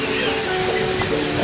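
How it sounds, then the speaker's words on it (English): Steady rain falls outdoors during a long-distance charity bike ride, a dense continuous hiss of drops spattering on surfaces close by, with no talk over it. "It's raining, man."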